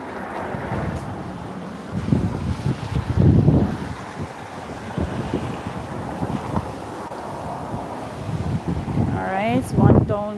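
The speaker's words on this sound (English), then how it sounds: "Do you hear that wind? I hope you can hear it." Strong wind blows along an ocean waterfront during a storm with rough waves, a steady roar buffeting the microphone throughout with gusts swelling louder, while a person talks over it.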